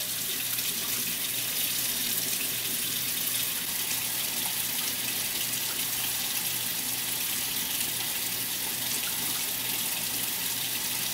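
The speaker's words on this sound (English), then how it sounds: "we're gonna go ahead and get our cup of water." Tap water runs steadily into a cup in a home kitchen while pizza is being made, a continuous even gushing stream with no pauses and no talk.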